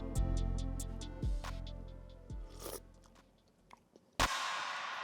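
Someone chews a mouthful of Instant Pot pasta bolognese sauce while tasting it. The soft, intermittent mouth sounds sit over a low background hum, and a sharper clatter comes near the end.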